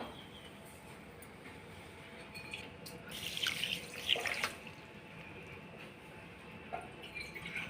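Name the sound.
water poured over sugar in a pan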